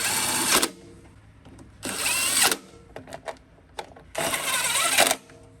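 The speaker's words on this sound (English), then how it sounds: "Put our bolts, our nuts back on." Nuts driven back onto the carburetor studs of a Honda Harmony lawn mower with a power driver: three short, whirring bursts separated by small clicks and taps of parts being handled.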